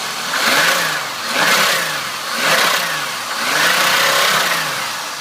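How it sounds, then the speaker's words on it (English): A 1999 Chevrolet Malibu LS sedan's 3.1 liter V6 revs up and falls back in four steady, close swells with a loud mid-pitched drone, with no talking over it. "Let's rev her up and you can hear."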